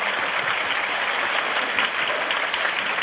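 An audience at a Tokyo fan meeting bursts into steady, full applause, a dense, even wash of many hands clapping close and loud without pause.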